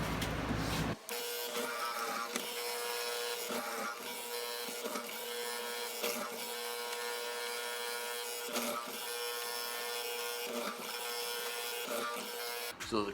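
Hollow chisel mortiser cutting mortises into wood for a coffee table, a steady loud motor drone with rhythmic plunging cuts roughly every second or two, close by and sustained throughout.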